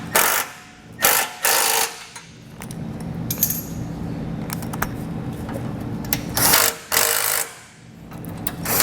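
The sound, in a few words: tightening and torquing base plate brace hardware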